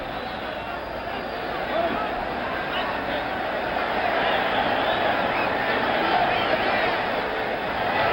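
Dense, steady arena crowd roar at a 1977 George Foreman vs Jimmy Young heavyweight boxing match, voices massed into continuous chanting and hubbub at moderate loudness throughout.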